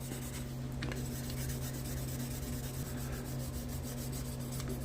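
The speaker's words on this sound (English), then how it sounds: "I'm basically holding the sanding stick on an angle like this" A sanding stick rubs steadily back and forth at an angle against a metal truck body panel, a close, continuous rasping scrape over a low steady hum.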